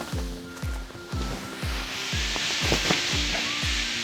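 Dried beans poured into the black inner filling bag of an Epona Co. Zen Chair bean bag, a continuous granular hiss and rustle with repeated soft thumps as the stream shifts, close and steady.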